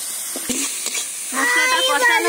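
Spice paste of chilli powder and turmeric stirred and fried in a pan, giving a close hissing sizzle with a few scraping strokes that grows fuller and louder toward the end.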